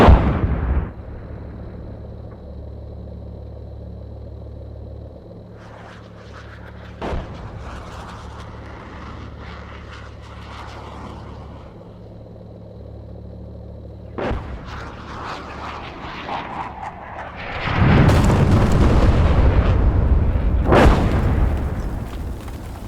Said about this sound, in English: Here it comes. Artillery is fairly close.